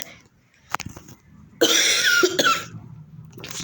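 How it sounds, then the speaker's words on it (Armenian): A person coughs close to the mic in a harsh burst of several rapid coughs, after a few brief throat noises and quiet background. "հազում եմ"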